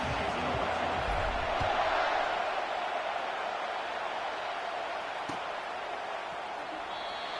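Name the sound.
stadium crowd in a college football video game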